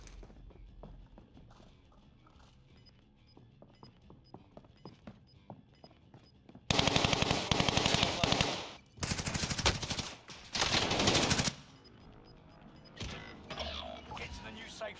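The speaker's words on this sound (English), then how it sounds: "Receiving hostile fire." Hostile gunfire in Call of Duty: Modern Warfare Warzone starts with quieter footsteps and clicks, then loud, dense automatic bursts close by that stop and start several times, with a game voice speaking around them.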